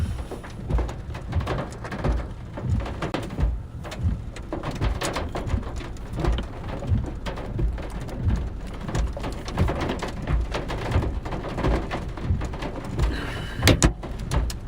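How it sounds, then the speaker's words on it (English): Large hail pelts a car during a tornado intercept in Colorado, a dense, continuous rattle of hard impacts on the roof and body, loud and close, with a few heavier hits near the end. "Big hail there, man, big hail."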